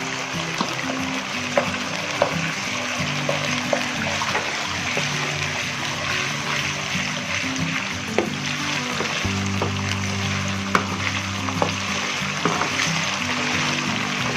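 Ginger and garlic fry in a pan for a desi bean dish, giving a continuous soft sizzle with scattered small pops and clicks, moderately close, no talking.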